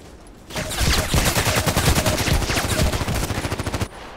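A continuous burst of fully automatic fire from the SVU-AS automatic sniper rifle in the online shooter Contract Wars, a rapid, loud string of shots lasting about three seconds, close and with no talk.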